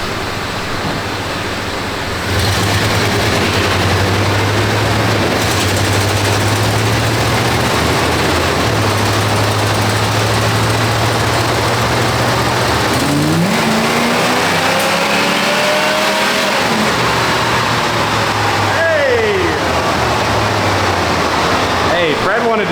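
A 250k-mile Chevy OBS truck with nitrous, its engine roaring loudly and steadily as it rows through the gears, pitch climbing and dropping at each shift, heard from inside the cab with voices.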